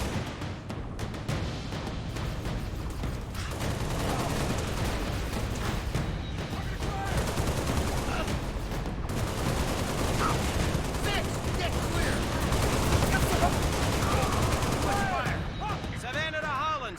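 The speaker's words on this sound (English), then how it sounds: "Stop shooting me!" Someone fires at the player in a video game, with sustained volleys of automatic gunfire and heavier blasts crackling through a long, busy stretch of combat noise, with voices heard at times.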